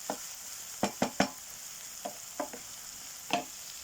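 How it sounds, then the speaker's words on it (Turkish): Onions sauté in a pan on a small portable gas canister stove outdoors in a garden, a faint steady sizzle broken by several sharp scraping stirs in quick clusters. "Soğanımı kavuruyorum ocağın üstünde."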